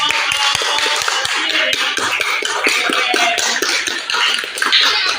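Clapping from a group of participants at an academic coaching and supervision session, a busy patter of hands with distinct sharp claps near and far, continuing throughout with faint voices mixed in.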